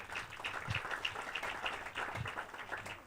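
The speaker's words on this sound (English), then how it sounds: "Let's give her a round of applause." Audience applause at a graduation ceremony in Mombasa, a moderate steady patter of clapping heard from a little distance in a reverberant space.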